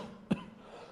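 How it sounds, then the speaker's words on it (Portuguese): One short, faint cough, a single quick burst in an otherwise quiet moment. "estou até tossindo aqui na hora de te chamar"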